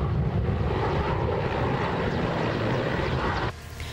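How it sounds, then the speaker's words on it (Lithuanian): A military helicopter dropping water on a burning peat bog near Klaipėda gives off a continuous rotor and engine drone, fairly close and steady, then eases slightly near the end. "Nuo vakar vakaro vandenį iš viršaus lieja jų sraigtasparnis"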